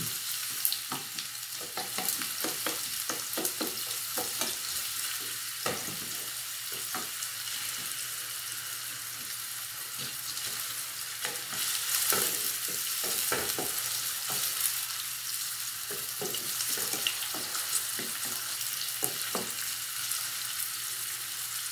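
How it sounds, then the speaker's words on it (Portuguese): Chopped onion and zucchini fry together in a pan for a zucchini farofa, giving a steady close sizzle with frequent sharp crackles and occasional spoon-stirring scrapes throughout. "Então vou deixar dar uma fritadinha na cebola"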